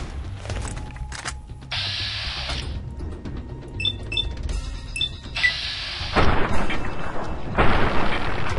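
Armor-piercing rounds fired in Fallout: New Vegas, a few dull booming shots with mechanical clicks spread across the stretch, set against steady game ambience and louder rumbling bursts near the end.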